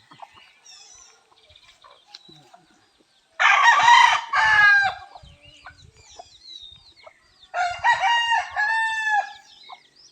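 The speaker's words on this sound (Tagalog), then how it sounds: "konting manok, saka baboy, native." Two loud rooster crows a few seconds apart ring out close by, separated by quiet with soft bird chirps and light rustling.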